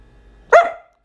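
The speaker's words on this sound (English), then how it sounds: "My dog used to bark like crazy, and let me show you some videos real quick." A dog lets out one loud, close bark that ends abruptly, preceded by a near-silent moment with no other sound around it.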